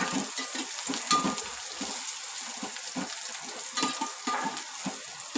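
Bitter gourd stir-fried in a pan with cumin tempering, garlic, onion and curry leaves, sizzling steadily and close throughout with occasional stirring scrapes.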